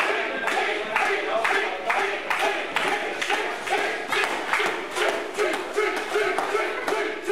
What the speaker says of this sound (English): The crowd cheering for T.